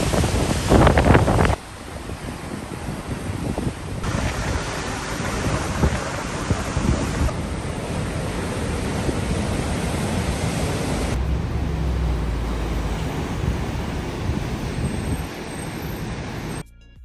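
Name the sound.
sea waves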